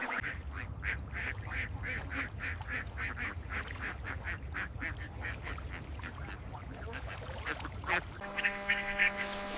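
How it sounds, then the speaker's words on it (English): Magpie ducks on a farm pond give a steady run of rhythmic quacks over constant splashing and water noise, ending with a brief sustained tonal hum. "a pond full of magpie ducks is unlike anything else in waterfowl farming."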